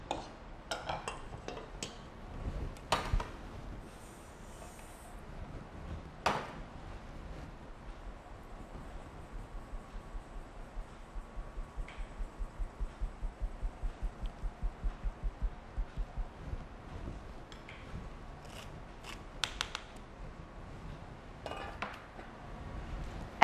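A spatula pressing lumps of cocoa through a metal sieve, producing soft scraping and a fast run of rhythmic light tapping, quiet and close, with occasional sharper clinks of utensils.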